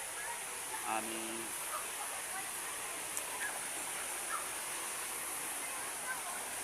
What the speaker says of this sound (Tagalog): andito kami sa aming kaparaisong ilog dito sa aming lugar